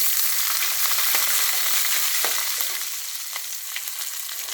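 Finely chopped onions with curry leaves and garlic cloves frying in hot oil, a loud continuous sizzle with occasional stirring scrapes, easing slightly toward the end, no voices.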